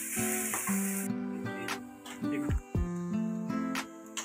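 Onions frying in a pan until light brown for chhole, a steady close sizzle with scraping stirs and clattering spoon knocks, accompanied by a persistent tonal hum.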